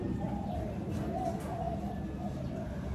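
Pet pigeon or dove cooing softly nearby, low murmuring coos over a broad background hiss and handling noise, brief and steady throughout.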